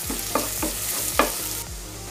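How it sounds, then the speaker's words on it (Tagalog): Garlic frying in a pan, a steady loud sizzle with a spatula repeatedly scraping and stirring at an even rhythm, close up with no voices. "magpa-fried lang tayo ng garlic, guys, para i-toppings natin mamaya sa ibabaw"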